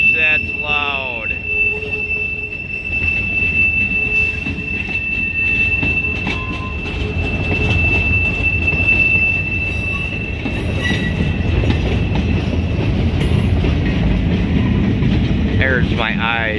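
A short freight train rolls past loudly and close, its wheels letting out a sustained piercing squeal over heavy rumbling and rail clatter, with a horn-like tone at the start and end.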